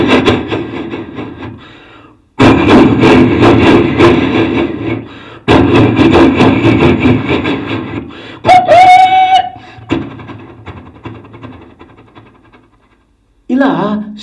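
A vocal mimic imitates a train pulling away, with loud rhythmic chugging bursts separated by short gaps, a brief whistle-like wail, then a tapering fade and a final short vocal burst.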